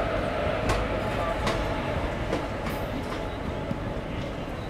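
The Amritsar Mumbai Express 11058 rolls through Ambala Cantt Junction, its rumbling carriages and rhythmic wheel clatter filling a busy platform with steady, close noise.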